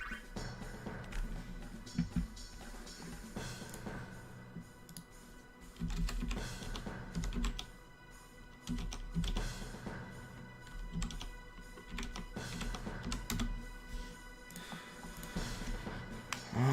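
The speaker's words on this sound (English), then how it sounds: "there's so much typing that goes into it" Steady, fast clicking of computer keyboard typing while logging Besaid Aurochs stats in a Final Fantasy X blitzball session, close and continuous with short pauses and no speech.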